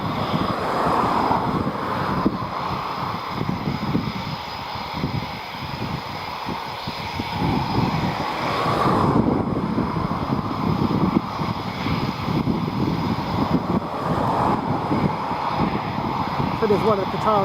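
Eurofighter Typhoon jets fly over the runway at RAF Coningsby, producing a loud, continuous broadband roar that swells and fades slightly over several seconds, mixed with heavy wind buffeting on the microphone.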